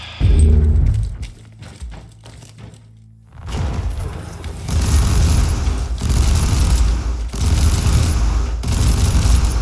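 Turret gunfire in the Warhammer 40K Inquisitor video game, a dense, loud sustained burst of rapid fire with heavy thumps, following a quieter stretch of clicks and mechanical sounds.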